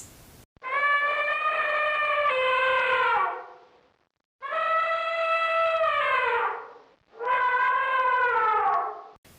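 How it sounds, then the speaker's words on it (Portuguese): An elephant trumpets three times, each a long, loud, brassy blast of several seconds that trails off, with short pauses between. "Esse é o som do elefante."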